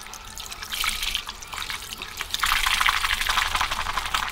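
Water being stirred and mixed with soap powder in a vessel for soaking clothes to remove stains, a close sloshing, splashing sound in two bursts with a brief lull between them.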